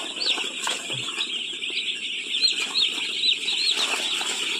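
Several chickens cluck and chatter continuously at close range in a poultry farm, a busy, steady flock sound with occasional louder calls.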